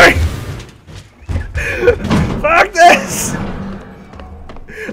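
A door slamming in the Alien Isolation video game, heavy thuds and clanks mixed with game sounds, loud and close, while a person talks and laughs over it.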